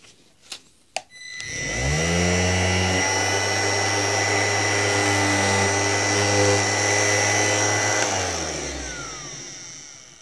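A P.I.T. PDS20H-125A cordless random orbital sander runs at reduced speed after a few clicks, whirring in a steady, loud hum for several seconds before spinning down, with no one speaking.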